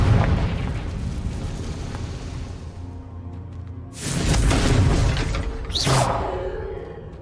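Confringo spell blasts in Hogwarts Legacy, played on Nintendo Switch with Joy-Cons: after a rumbling stretch of game noise, a loud explosive burst erupts, then a second sharp blast with a bright crackling whoosh follows about two seconds later.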